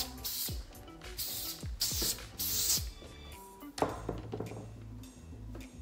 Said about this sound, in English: I'm just gonna spray a little tiny bit of hairspray